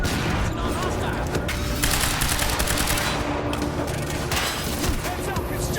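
Rapid automatic gunfire and booming shots from the action video game Quantum Break fill the mix, a dense continuous fusillade with sharp bursts, heard alongside game voices.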